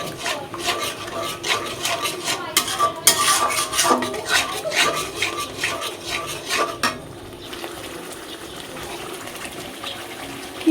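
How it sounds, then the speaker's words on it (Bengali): A metal spatula stirs curd without pause in a wok while an egg curry cooks, making steady scraping clacks and wet swishing for about seven seconds, then quieter bubbling and simmering follow, with no talking. "খুন্তি নাড়িয়ে যেতে হবে।"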